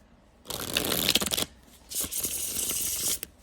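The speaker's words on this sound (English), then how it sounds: "I'm gonna give it a good shuffle." A tarot deck is shuffled by hand in two crisp riffling bursts, close up, with a short pause between them and no talking.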